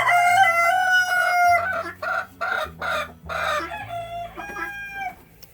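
Barred Rock chickens among a mixed backyard flock cluck and crow nearby, with a rooster's call over layered, rhythmic clucking from several birds.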